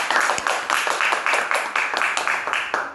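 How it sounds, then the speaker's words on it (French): A church congregation claps in rhythmic unison, about three or four sharp, even claps per second, loud and steady throughout. "Applaudissons pour le Seigneur."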